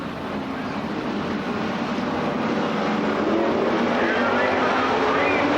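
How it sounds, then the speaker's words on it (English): Stock cars race through turns 3 and 4 at Winchester Speedway and pick up the throttle, a dense, loud roar that builds steadily while a commentator talks over it. "And they pick up the throttle through turns 3 and 4."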